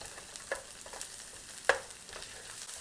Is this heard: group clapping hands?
no